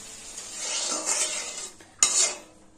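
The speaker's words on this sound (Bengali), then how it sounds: "এইভাবে আমি এরকম লাল লাল করে বাকি চিকেন গুলো সব ভেজে নেব।" Chicken pieces frying in oil in a pan for chili chicken, with a soft sizzle under clinks and scrapes of a utensil stirring against the pan and a sharper metallic knock near the end; no talking.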